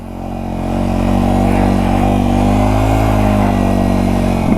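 Old Yamaha TW motorcycle engine running on a cold, snowy day, a loud close single-cylinder idle that swells slightly at first and then holds a steady throbbing drone, with no talking.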